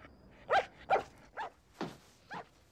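A dog barks in a film scene, five short sharp barks spaced at a loose, uneven rhythm, moderately quiet and with no talk over them.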